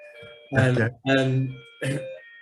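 A bright electronic doorbell chime plays three tones, each ringing out briefly before the next, loud and close, with no one talking.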